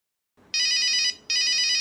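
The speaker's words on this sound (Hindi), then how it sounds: "अरे किसका फोन आ गया?" A telephone bell rings twice in long, bright bursts with a brief pause between, close and loud.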